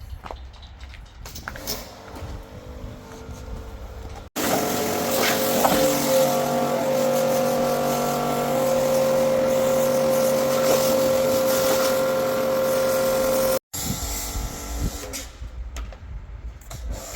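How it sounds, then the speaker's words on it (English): A 1990s-style Mercedes 300E W124 sedan, restarted after sitting nine years, is driven and parked. The engine gives a steady idle and running drone with a sustained tonal hum, and rougher, quieter idling comes before and after. "Let's park the car."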